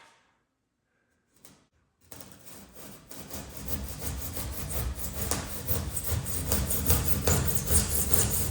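Foam being cut to shape for a camper build, a couple of faint taps after near silence, then a steady, close, rough sawing rasp that grows louder and continues to the end.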